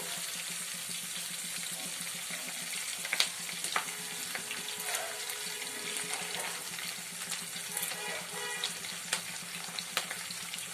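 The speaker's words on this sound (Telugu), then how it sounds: "అల్లం పచ్చిమిరపకాయ ముక్కలు ఎర్రగా వేగే వరకు వేయించుకుందాం" Chopped ginger and green chilies frying with curry leaves in hot oil, a steady close hiss and sizzle with occasional sharper pops and stirring, no talk.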